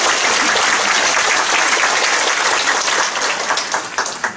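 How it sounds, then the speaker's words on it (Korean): A congregation at a Korean church worship service for a bishop's installation applauds, with loud dense clapping throughout that gradually thins into scattered claps near the end. "우리 하나님께 영광의 박수를 올려드리겠습니다"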